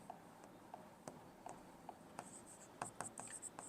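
Pen scratching on paper as an equation is written for a class 10 maths solution, with short strokes and taps in an irregular rhythm, close and quiet, without speech.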